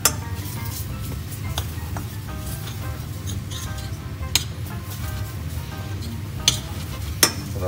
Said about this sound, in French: On va mettre une demi-cuillère de farine comme ceci, de façon à ce que ça fasse un petit roux.